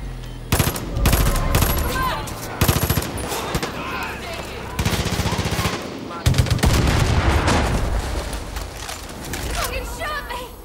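Repeated bursts of gunfire in Far Cry 5 at a cult outpost, Elk Jaw Lodge, loud rattling volleys separated by short pauses, with someone talking over parts of the shooting.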